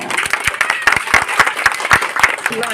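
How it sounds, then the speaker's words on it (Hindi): A crowd at a Baba Saheb Jayanti speech event claps loudly and close by, with distinct individual claps in a rapid, uneven patter throughout. "बाबा साहब के लिए तालियां।"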